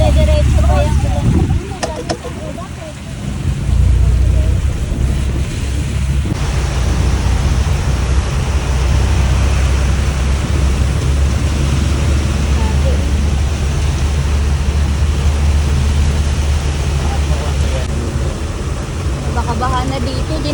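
Strong floodwater current rushes during a typhoon near a market, a steady loud roaring wash with people talking over it.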